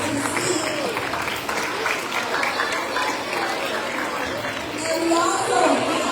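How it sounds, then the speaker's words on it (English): A roomful of people applauds steadily for several seconds at a school assembly, with scattered voices and chatter mixed into the clapping. "Give him another round of applause as he takes his seat."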